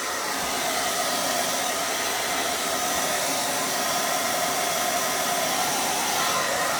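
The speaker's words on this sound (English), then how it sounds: "Let's blow dry this so that we can get it" A hair dryer blows loudly and steadily at close range, drying paint, a constant rushing roar with no pauses.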